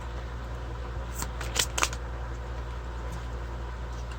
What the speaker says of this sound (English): so we're going to keep shuffling.